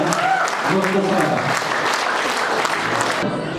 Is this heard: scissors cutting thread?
no